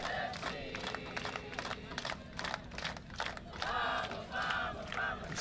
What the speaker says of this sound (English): they've been cheering like this all game long